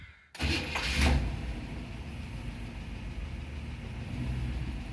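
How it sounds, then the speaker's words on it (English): An old car engine cranks briefly with a whirring starter, catches, and settles into a low, steady rumbling idle. "I love how these old cars start."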